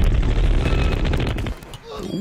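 A minigun unit in Totally Accurate Battle Simulator fires a dense, continuous roar of rapid shots up close for most of the burst, then thins out, with voices talking over the battle.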